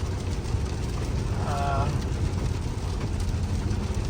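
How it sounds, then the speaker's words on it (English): Steady rain falls during a heavy Southern California storm, a constant, even hiss throughout, with a short tonal sound briefly rising above it midway. "Now it's just a consistent, not drizzle, but I guess you can call it just rain."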